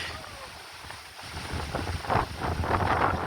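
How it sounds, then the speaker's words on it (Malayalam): Strong wind gusts buffet the microphone at a dam, a broad rushing roar that swells and grows louder toward the end. "നല്ല കാറ്റ്."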